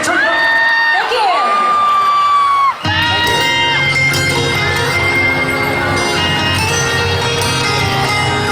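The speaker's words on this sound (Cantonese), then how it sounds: "俾掌聲" A Hong Kong pop music awards show audience cheers, whoops and shouts loudly as music plays, the crowd noise swelling and filling the hall continuously.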